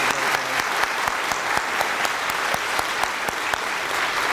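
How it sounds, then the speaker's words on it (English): Applause from the audience at a county schools Teacher of the Year awards ceremony, loud and continuous, with distinct individual claps cracking through the dense wash. "Diana Swisher, let's give Diana a great round of applause."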